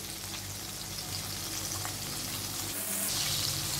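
Chicken crunchy strips fry in hot oil on a stove, a constant dense crackling sizzle, close and steady throughout, with no talking.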